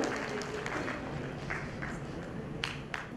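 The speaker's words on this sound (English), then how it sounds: "Audience, may we have a huge round of applause for AP Sir Mashal." Applause from an audience at an educational talk, a steady wash of clapping at moderate level with a few sharper individual claps standing out near the end.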